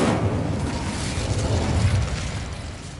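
Incendio fire spell cast in the video game Hogwarts Legacy: a steady, roaring whoosh of flame that holds at an even, fairly loud level for about three seconds, with a low rumble underneath and no voices.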